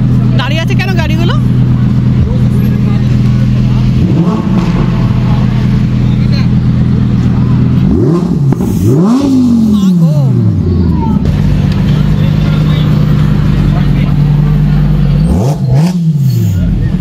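Cars idle and creep through Dubai traffic, a loud, steady engine rumble heard from inside a vehicle, with occasional rising revs and people talking over it.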